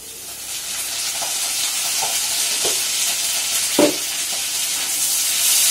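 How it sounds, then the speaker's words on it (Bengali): Ginger goes into a pan of fried onions, raising a steady, moderately loud sizzle with a few soft knocks scattered through it. "পেঁয়াজটা ভাজা হয়ে গেল এবারে দেব আদা"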